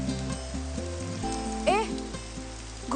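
Steady rain falls through a Hindi action film scene, a continuous soft hiss under music and a brief rising tonal sweep, with a voice speaking over it.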